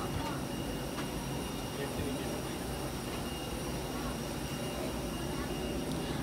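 A steady, droning small passenger aircraft engine hum fills the whole stretch, constant and fairly loud, with a faint high whine layered on top.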